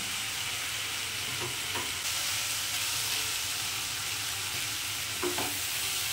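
Coconut curry masala sautés in a pan with a dense, even sizzle and hiss, broken by a few soft scrapes of stirring near the start and again toward the end.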